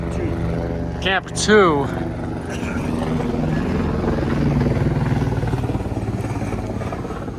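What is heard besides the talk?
helicopter flying near Everest Khumbu icefall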